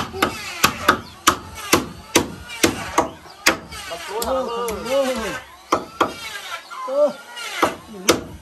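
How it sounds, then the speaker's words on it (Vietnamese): Wooden wall boards of a house are hammered with nails in sharp, irregular knocks, followed by a stretch of nearby talk with a few more strikes. "Đấy, đóng thử vào xem mây tấm xem nào."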